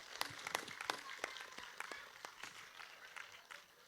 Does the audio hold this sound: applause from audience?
yes